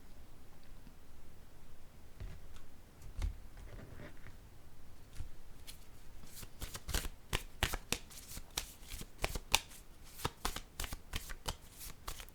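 Fortune-telling cards are shuffled and drawn close up, starting with soft handling and sliding, then breaking into rapid, crisp riffling bursts toward the end, with no talk.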